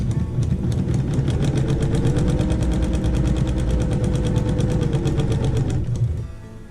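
A sewing machine stitches a quarter inch seam on pinned quilt pieces, a steady rapid mechanical whir and clatter running loud and close for about six seconds before stopping abruptly.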